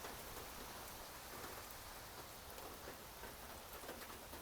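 Steady rain falls outdoors on a sunny day, a dense, even hiss of drops close by, alone without voices, with faint low rumbling beneath.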